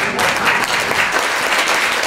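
Dense, steady audience applause for a comic singing duo at a stage show, many hands clapping continuously at an even level throughout.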